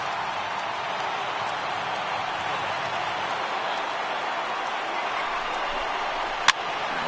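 A baseball stadium crowd of more than 36,000 rises to its feet at the last strike for the Giants, producing a steady, moderately distant wash of applause and crowd noise, with one brief sharp knock near the end.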